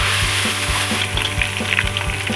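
Garlic ginger paste frying hard in hot oil with garam masala for chicken pulao, a loud steady sizzle with rhythmic stirring scrapes throughout, close and with no talk.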